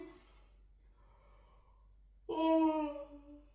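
A long, drawn-out yawn rises into a loud, voiced stretch near the end, after quiet breathing.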